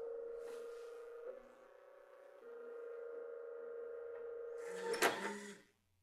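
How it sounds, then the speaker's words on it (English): Apple 400k floppy drive in a 1984 Macintosh ejecting a disk after being lubricated: a steady mechanical whir and hum, then a brief clattering clunk as the disk pops out, fairly quiet and close. "now we'll test the eject mechanism"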